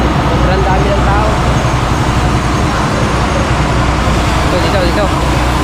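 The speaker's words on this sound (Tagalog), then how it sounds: "At masyadong ma-traffic yan. Sobrang dami ng tao." A crowded street jammed with heavy traffic gives off a dense, unbroken roar of engines and road noise, mixed with the constant babble of a large crowd close around.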